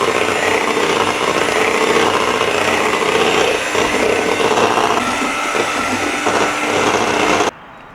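An electric whisk on low speed mixes condensed milk into a no-churn homemade ice cream base, a steady, dense whirring that runs unbroken and cuts off sharply just before the end.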